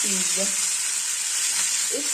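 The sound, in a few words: chicken pieces sizzling while frying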